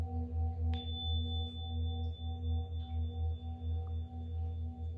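Sustained meditation tones hum steadily throughout, layered low drones with a soft high ringing tone entering early and holding, calm and continuous with no speech.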